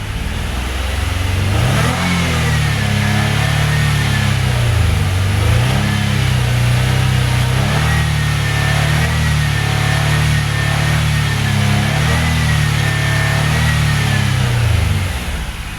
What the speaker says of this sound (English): Let's go ahead and give it some revs and see if it goes down or what it does.